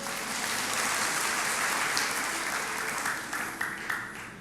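A church congregation applauds during a sermon, a thick wash of clapping that holds steady, then thins and fades near the end with a few scattered claps.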